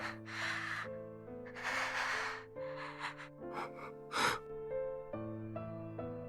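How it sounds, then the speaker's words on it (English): Pained, labored breathing over a phone call in Chaos;Child, several loud gasping breaths and snorts heard over sustained background music. "All I could hear was her pained breathing."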